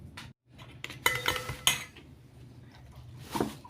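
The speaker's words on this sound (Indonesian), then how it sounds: "1 butir telur ayam ukuran sedang, 1 sendok makan susu cair full cream. Kedua bahan ini kita campur jadi satu sampai rata." A spoon clinks against a bowl while egg and full cream milk are stirred together, a burst of quick metallic scraping taps followed by softer, intermittent stirring, close and alone.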